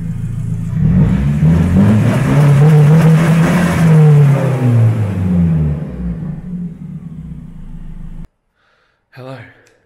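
A car with an SR20 engine revs loudly and close, rising and falling in a sustained roar before dropping away, followed by a brief shout.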